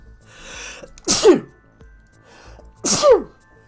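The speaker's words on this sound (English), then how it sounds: "That was the manliest little sneeze." A single short sneeze with a sharp burst, then after a pause a second sneeze of the same shape, both close and loud against a quiet background during a gaming session.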